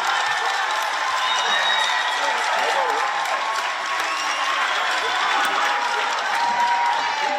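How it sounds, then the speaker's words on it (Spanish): Sustained audience applause at a live drum circle performance, a dense wash of clapping mixed with crowd cheers and shouts, steady and loud for the whole stretch. "Fuerte el aplauso"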